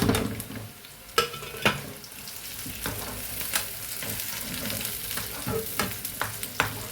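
Curry leaves and dried red chillies crackle and sizzle in hot oil, a busy close spitting hiss with scattered sharp pops and utensil knocks throughout.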